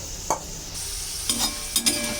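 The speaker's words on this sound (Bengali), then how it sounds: "আলুটা খুব সুন্দর হয়ে ভাজা হয়ে গেছে," Potatoes fry in a pan with a steady, soft sizzle, broken by three brief scraping stirs.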